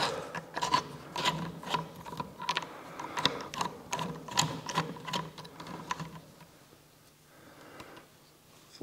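A screw being loosened on a cracked Ryobi ONE+ R18ALF-0 cordless work light gives close, uneven mechanical clicks and scraping rasps. The sound fades to quiet for the last couple of seconds, and no one speaks.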